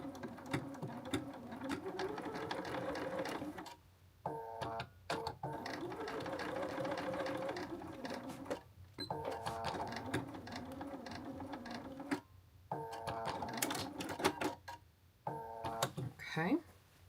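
A sewing machine stitches a triangle piece of an oversized blazer's welt pocket in long steady runs, its rapid mechanical whir stopping briefly between bursts, with a voice talking over it.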